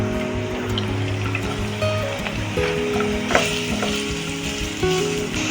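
Carrots frying in a mix of hot ghee and oil, giving a steady, close sizzle with crackles and occasional stirring scrapes throughout.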